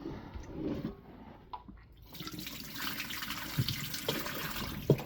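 Rice is stirred and rinsed by hand in water, with running water, swishing and a few soft drips heard up close.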